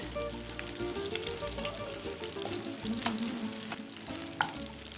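Garlic frying in a pan for Mughlai chicken gives a steady, close sizzle with stirring throughout, and a single sharper clink of a utensil stands out near the end.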